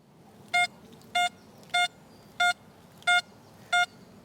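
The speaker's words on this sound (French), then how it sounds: "Maintenant, avec la réactivité à 5, et maintenant, avec la réactivité à 0. Écoutez combien le signal prend de l'ampleur." An XP Deus metal detector set to reactivity 0 sounds its target signal as six evenly spaced, loud, clear electronic tones, each held for about a quarter second, over a faint background hiss.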